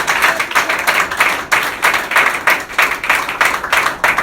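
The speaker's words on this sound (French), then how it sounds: "Acclamez très fort pour les Seigneurs" Church congregation clapping loudly in steady rhythmic bursts, roughly two claps per second, with a crowd's applause sustained throughout and no speech over it.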